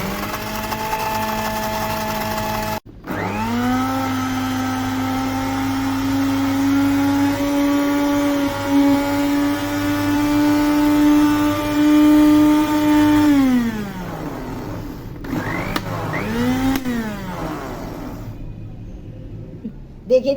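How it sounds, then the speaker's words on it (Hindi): A small electric blender-type machine whirs steadily for about ten seconds as it beats and grinds coffee with ice until fluffy and creamy, then winds down, followed by shorter bursts. "देखिए जी कॉफ़ी को इतना बीट किया है, ग्राइंड करा है कि इतनी इसकी फ्लफी सी हो गई है"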